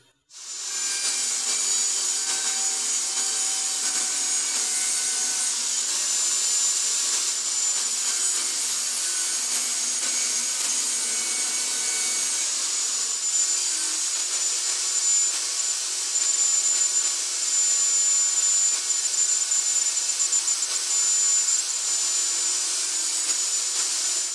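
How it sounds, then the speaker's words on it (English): A loud, high-pitched whine of a table saw cutting through wood runs without a break for about twenty seconds, steady and close. "I'll go over to the table saw now and I'll clean off the edges and cut it to the right length"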